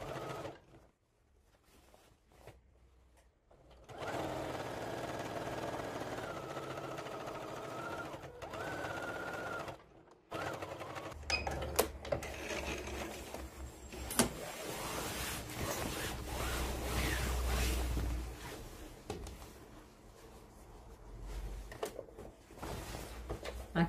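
Sewing machine stitching fabric for a table runner, its motor running in sustained bursts with brief stops and handling clatter between runs, close and fairly loud throughout.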